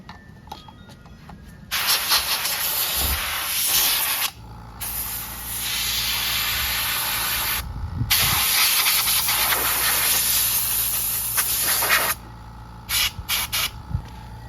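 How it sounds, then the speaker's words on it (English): An air compressor blows out old Jeep CJ air filters in bursts of loud, steady hissing air. The bursts are separated by brief quieter gaps, and a low mechanical hum runs underneath. "I wanted to blow out these air filters here"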